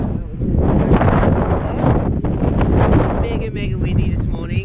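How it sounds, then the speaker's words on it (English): Strong morning wind roaring across the microphone on day seven of the Torres del Paine O Circuit trek, just after leaving Camp Paine Grande; steady loud gusty buffeting throughout, with faint speech mixed in. "Mega windy this morning, from about 4 o'clock in the morning actually."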